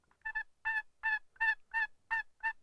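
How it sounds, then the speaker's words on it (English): A series of seven soft, evenly spaced yelps from a turkey box call, each a short raspy two-note stroke, fairly quiet and close with no talking. "It's a box call."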